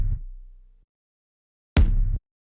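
Two layered techno kick drum samples, a clicky top layer and a body, fire together as two solid hits separated by a short silence, each with a sharp attack and brief decay, close and isolated.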